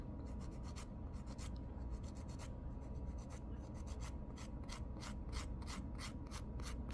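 A 150 to 180 grit nail file is rubbed across a fingernail, producing rapid, close, soft rasping strokes in an uneven rhythm, quiet and alone with no speech.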